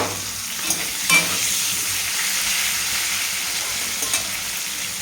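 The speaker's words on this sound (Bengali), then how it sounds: "ফুলকপি ভাজা চলছে" Cauliflower sizzles and fries in a pan, a steady close hiss with a few stirring knocks and light clatter, no voices.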